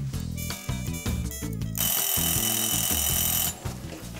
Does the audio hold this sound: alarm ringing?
yes